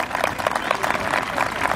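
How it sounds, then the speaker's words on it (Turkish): Crowd at a municipal sports equipment donation event applauds the mayor with steady, dense clapping throughout, close and moderately loud, no talk over it. "Başkanı bir alkışlayın."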